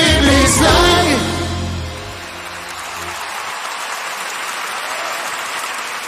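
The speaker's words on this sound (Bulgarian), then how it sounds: "Дами и господа, още аплодисменти за кралят на поп-волка и за човекът глас" Concert audience applauding at a pop-folk show, a broad wash of clapping that swells over music fading out, then settles into steady, dense applause.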